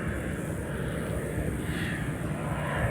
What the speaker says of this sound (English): See that airplane in the